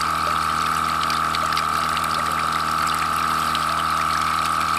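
A water pump recirculates water through a water heater for a shed, giving a steady, continuous mechanical hum with a strong constant tone and a faint ratcheting texture, close and even throughout.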